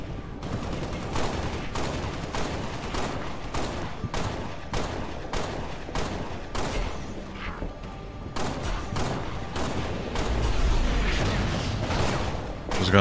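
Video game gunfire from Halo: Spartan Strike, dense bursts of rapid shots and impacts crackling continuously over game music and sound effects, fairly loud throughout with a few heavier booms.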